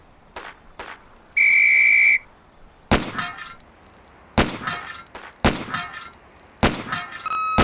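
In the Police Quest: SWAT training drill, a sharp, sustained whistle blast sounds for under a second. Gunshots and metallic clangs from falling steel pepper-popper targets follow in irregular bursts.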